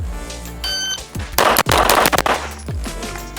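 Shots from an Infinity Calvin's Cherry titanium pistol ring out as a quick string of sharp, loud cracks in the middle. Music with pulsing bass runs underneath.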